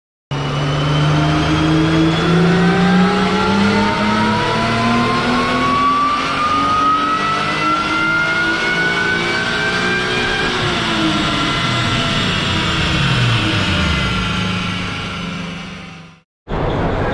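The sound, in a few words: supercharged Acura TL engine revving on the dyno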